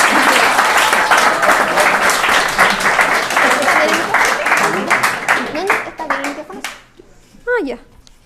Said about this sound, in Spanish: quiero que la recibamos con un fuerte aplauso a Sofía Barca.